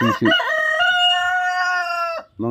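A Rhode Island Red rooster crows once, loud and close, a long sustained harmonic call of about two seconds with a short clucking lead-in and a brief trailing sound.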